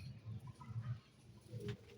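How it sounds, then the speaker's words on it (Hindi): Aseel pigeons in a breeder's collection cooing softly nearby, a few rounded low coos repeating in a gentle rhythm, quiet overall. "ये असील कबूतर।"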